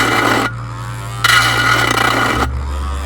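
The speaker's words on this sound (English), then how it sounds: "We're going to grind down to bring it smooth." A Dremel rotary tool grinds down a plastic part on a 1979 AMT Star Trek U.S.S. Enterprise model kit, in two close, loud bursts of rasping whine over a steady motor hum.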